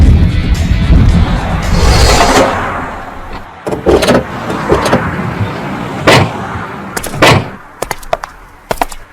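A car with a flat tire slows and pulls over, starting with loud rumbling engine and road noise that fades. Several sharp clunks and clicks follow, like doors and parts of the car being handled close by.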